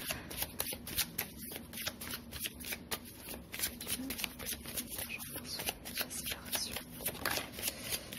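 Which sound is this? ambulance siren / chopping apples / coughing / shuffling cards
shuffling cards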